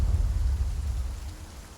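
Steady rain falls in a city scene of the ninja action game Shinobi: Art of Vengeance, a dense low rushing hiss with soft rumbling underneath, constant and even throughout.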